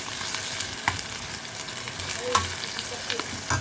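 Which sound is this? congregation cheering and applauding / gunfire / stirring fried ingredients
stirring fried ingredients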